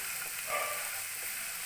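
Chicken for gondhoraj chicken fries dry in a pan with tomato sauce and no water, giving a steady, hissing sizzle that stays even throughout, close and fairly quiet with no talking.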